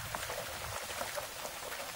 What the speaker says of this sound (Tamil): நல்லா மழை பெய்யுது.